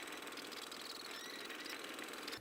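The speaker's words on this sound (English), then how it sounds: "So I hopped into our lovely tractor, attached the flatbed trailer," Tractor engine pulling a flatbed trailer in a farming video game, a constant droning, rattling hum with no break, steady and fairly loud.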